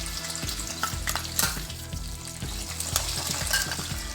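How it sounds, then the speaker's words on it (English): Onion and ginger paste frying in a pan for a Bengali rohu fish curry, a steady close sizzle with repeated stirring scrapes over low rhythmic background music and no talk. "Fry them for a while. Then add onion paste, onion and ginger paste."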